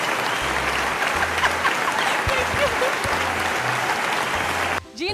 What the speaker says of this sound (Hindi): खुद ही अपने लिए तालियां कर लें।